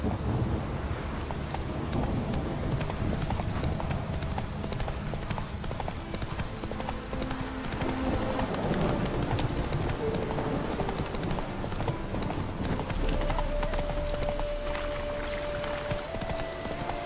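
Hooves of the horse Roach clip-clop in a steady trotting rhythm in The Witcher 3 game, continuous over ambient game sound with faint background.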